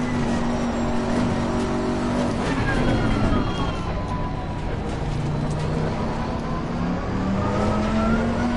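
Race cars in a racing video game circle the Misano circuit, engines droning and sweeping up and down in pitch as nearby cars pass, with someone talking over the steady engine noise.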